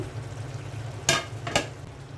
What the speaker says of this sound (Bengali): এখন মাছের মাথাগুলো দিয়ে দিচ্ছি